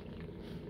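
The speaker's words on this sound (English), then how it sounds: "Purring and purring." A cat purrs close up in a soft, steady low rumble, brief and quiet with no other sound.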